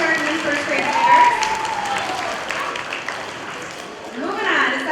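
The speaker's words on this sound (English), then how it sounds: "Let's give a round of applause for our kindergarten and first grade leaders" An elementary school assembly audience claps for its kindergarten and first grade leaders, a moderate, fairly soft patter heard mostly beneath an adult voice speaking over it.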